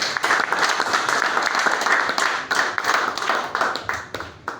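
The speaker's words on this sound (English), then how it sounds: "it's deserving a round of applause" Audience applause at an African championship event, dense sustained clapping from a crowd filling the whole stretch at steady loudness, with no talk over it.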